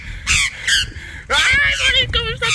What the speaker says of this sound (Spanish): me empieza a atacar un pájaro.